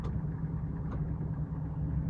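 A Valmet 8050 tractor with a six-cylinder 115 hp SISU engine idles steadily, a close, even low rumble with a slight throb and no speech.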